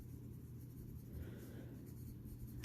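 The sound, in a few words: affordable pen writing on paper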